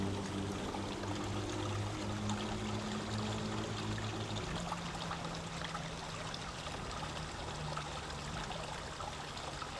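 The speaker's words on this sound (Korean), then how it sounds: "이렇게 천 따라서 계속 물이 흐르기 때문에 흐르는 정원이라는 이름을 붙인 것 같고" A stream of water running through Kokoen garden in Himeji, Japan, a continuous gentle rushing and trickling flow heard steadily throughout, with a low hum fading partway through.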